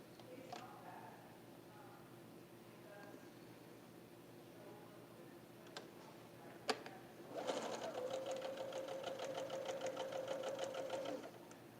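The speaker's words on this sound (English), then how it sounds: "Now I'm going to sew along that long edge." A sewing machine stitches along the long edge of quilt triangles, a pieced outer triangle joined to a solid silver one, for a barbed chevron block. A few clicks come first, then a steady close mechanical whir runs for several seconds.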